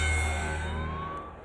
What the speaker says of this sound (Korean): 앰뷸런스가 마크를 급히 병원으로 후송했습니다